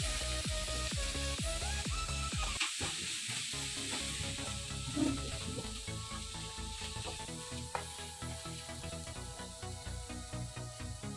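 Vegetables sizzling steadily in a hot pan with soy sauce and white vinegar, a loud continuous frying hiss with stirring clatter throughout and no talking.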